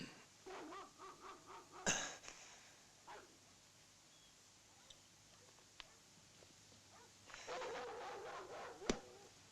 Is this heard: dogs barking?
yes